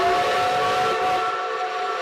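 A steam locomotive pulling restored wooden carriages lets out a loud, steady whistle with a breathy hiss, holding for about two seconds before easing slightly.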